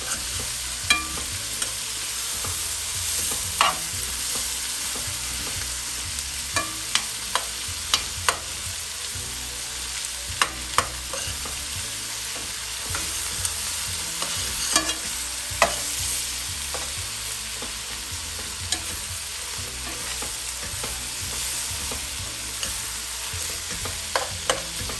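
Onions frying in a pot for a pot roast, stirred by hand: a steady close sizzle with scattered scraping clicks of the utensil against the pot, no voices.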